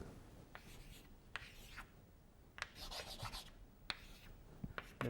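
Hand writing equations, a close pen or chalk scratching in several short bursts with pauses between strokes and occasional taps, alone without talk.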